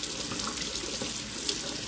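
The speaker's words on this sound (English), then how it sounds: "Running water, and you just run it under the tap and massage it." Tap water runs steadily under a faucet while an ink pad is rinsed and massaged beneath the stream, a continuous close hiss and splash with no pauses.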